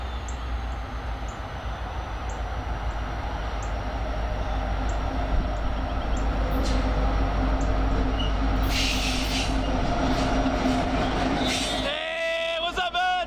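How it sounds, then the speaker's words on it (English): A repainted Reading Lines freight train, locomotive #1067, rumbles past with a steady low roar and rolling wheel noise, louder near the end, where a horn-like tone and rattling rise. "this fully powered train is going to give me a run for my money today"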